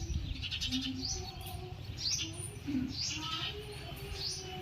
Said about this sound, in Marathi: रोज चिमण्यांचा किलबिलाट चाललाय